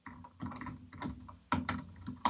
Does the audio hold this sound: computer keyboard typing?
yes